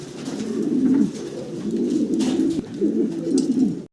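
Fancy pigeons on a farm cooing close by, with repeated low, throaty rolling coos in several overlapping bursts over a few seconds.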